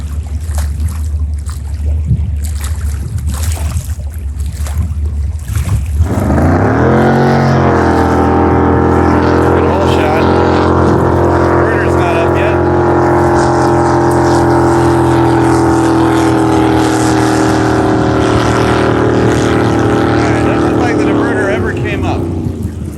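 A jet boat running at top speed with its diverters angled, the engine roaring up from a rumble into a loud sustained high-revving drone with rising harmonics, close and dominant over wind noise, with voices talking.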